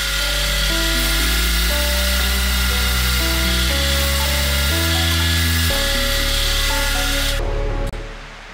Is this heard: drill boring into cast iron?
yes